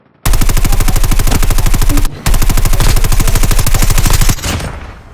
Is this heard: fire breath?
no